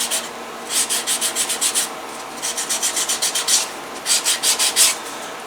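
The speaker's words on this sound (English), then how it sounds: "As will this one be as soon as the burnishing is done." Burnishing the edge of a leather pancake holster: bursts of quick, rhythmic rubbing strokes in three groups of about six to eight passes each, close and clear with no talking.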